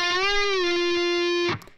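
A distorted electric guitar note bends up in pitch, sustains, then eases back down before being cut off abruptly.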